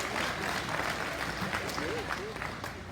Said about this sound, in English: Ladies and gentlemen, let's give those people a big round of applause and thank you for their support.